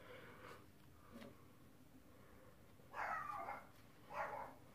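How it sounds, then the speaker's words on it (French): A neighbour's dog barks faintly in the distance, two short muffled bursts after a quiet stretch with soft indoor noise. "j'ai le chien de la voisine, il fait que d'aboyer"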